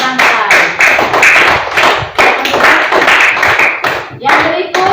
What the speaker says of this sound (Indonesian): Tepuk tangan untuk kelompok rantai.